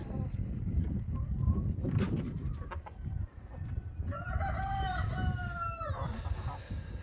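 A rooster crows once clearly amid clucking hens in a farmyard after feeding, with steady low background noise and murmuring fowl around the call.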